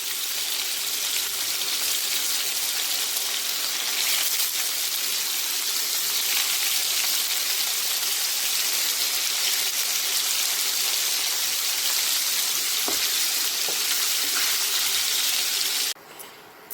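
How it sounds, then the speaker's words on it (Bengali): Paneer fries lightly in oil, just until it changes colour, with a constant close sizzling hiss and occasional faint pops, stopping abruptly near the end. "এইবার দিয়ে দিলাম পনিরগুলো। খুব লাল করে ভাজা হবে না"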